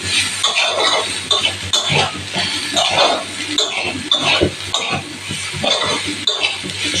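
Boiled taro stolons and jackfruit seeds, salted and fried for a dried-fish dish, with rhythmic bursts of spatula scraping and stirring against the pan over a soft background sizzle, close and fairly loud.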